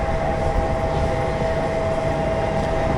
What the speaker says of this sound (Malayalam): ഇതാണ് നമ്മൾ വന്ന ട്രെയിന്.